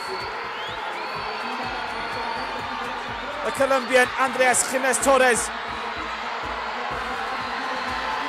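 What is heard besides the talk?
crowd roaring and cheering at inline speed skating race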